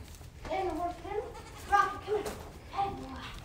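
Baby goats bleat several times at close range on a farm, short wavering cries spaced a second or so apart, with a golden retriever puppy nearby and someone talking in between.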